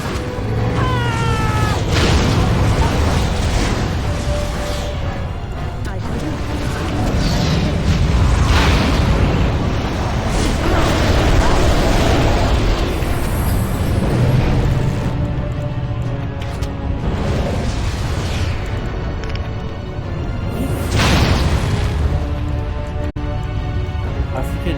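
Bombs go off in the video game Dragon Age: Origins as several booming bursts rise over a busy bed of game music and effects, with tonal cries layered among the blasts.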